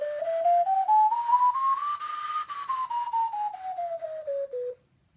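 Aketa alto C ocarina played in a smooth stepwise run, rising then falling back down over about five seconds as a breathy, pure whistle-like tone, close and alone before stopping.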